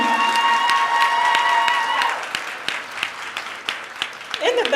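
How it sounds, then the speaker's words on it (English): Applause and scattered cheers from an audience at a graduation ceremony, a strong burst of clapping with a sustained tone early on, thinning into lighter, uneven claps and a few shouts. "Let's give them a round of applause one more time."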